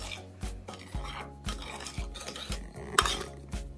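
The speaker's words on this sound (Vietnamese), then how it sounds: "Rồi mình cho cái khuấy cho cái hỗn hợp này nó đều nhau hết." Rhythmic stirring of a noodle sauce mixture for stir-fried rice noodles with bean sprouts and chives, a utensil scraping a bowl in steady strokes about twice a second, close and clear with no talking.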